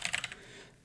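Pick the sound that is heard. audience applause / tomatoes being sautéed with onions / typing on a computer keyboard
typing on a computer keyboard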